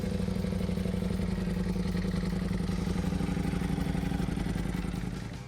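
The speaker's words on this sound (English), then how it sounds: "They ditched the L-twin for a V4 and built the ultimate Italian weapon that sounds like pure violence." A 2019 Ducati Panigale V4R motorcycle's V4 engine runs steadily with a dense, throbbing growl, loud and close, before easing off at the end.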